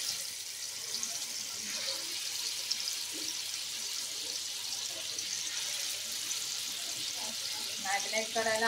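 Chicken that was marinated for half an hour frying in oil in a pan for spicy peri peri chicken, giving a steady, fairly loud sizzle and crackle across the whole stretch, with faint clinks near the end.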